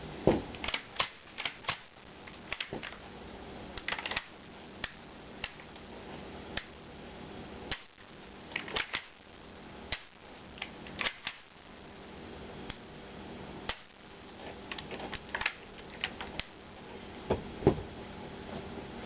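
Ruger 10/22 semiautomatic rimfire carbine being function-tested by dry-firing, a series of sharp, close mechanical clicks and snaps at irregular intervals over quiet room background.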